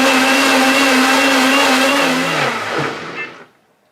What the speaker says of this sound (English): we're gonna hit the 5 button again, and we're gonna see how loud this blender is